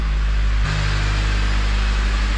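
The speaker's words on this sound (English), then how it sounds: "Still at high idle, no lights on." Replacement engine in a Honda Civic FG2 holding a high idle, a steady close hum that shifts slightly in pitch partway through, with no voices.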